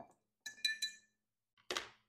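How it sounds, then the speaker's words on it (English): A cocktail stirrer clinks against the glass in a few bright taps, one short cluster of two or three clinks followed by a louder final clink after a pause, close and clear with no talking. "And then we are going to grab a cocktail stirrer. We're going to stir that around a little bit."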